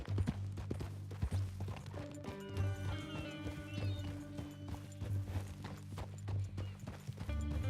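Horse hooves thud in Red Dead Redemption 2 in a steady, repeating clip-clop under background game music and ambience, close and moderately loud, with no speech.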